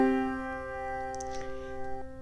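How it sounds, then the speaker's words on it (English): A perfect fifth interval, like the leap at the start of Twinkle Twinkle Little Star, rings out on a sustained, tonal instrument and slowly fades, with a few faint clicks and rustles partway through. "A perfect fifth sounds like this."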